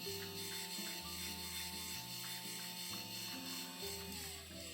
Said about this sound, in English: No, that's how the grinder sounds.